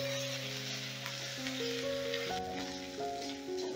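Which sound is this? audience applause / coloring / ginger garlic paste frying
ginger garlic paste frying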